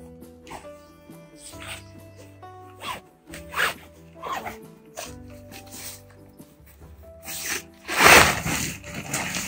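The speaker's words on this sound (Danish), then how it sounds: "Så jeg prøver lige at slå et telt op." A tent being pitched: fabric rustles and handling noises through most of the stretch, then a loud, fast zipper pull close by near the end, with faint tonal sounds underneath.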